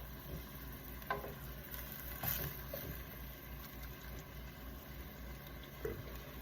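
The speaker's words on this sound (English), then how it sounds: "We're gonna get it nice and hot and try to cook these down quick to get rid of the moisture." Vegetables sizzle steadily in a very hot pan as they cook down to drive off their moisture. The frying hiss is quiet and even, broken by a few soft clicks and stirs, and no one talks.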